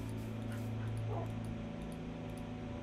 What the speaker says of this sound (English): It's a fat ass dog.